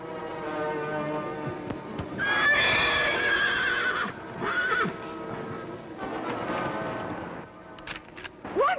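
A horse neighs and whinnies loudly in several long, shrill calls, with hoof clip-clops and rustling around it, close by and without talk.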